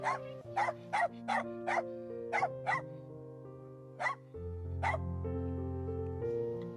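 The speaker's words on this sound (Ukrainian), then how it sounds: "І дзявкітливий, але зовсім не агресивний песик" A small dog yaps in quick sharp barks, several in a row then a few spaced out, over a soft sustained musical background, in the autumn Carpathians.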